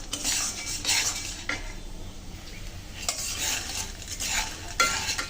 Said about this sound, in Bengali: ডালগুলো একটু লালচে করে ভেজে নেব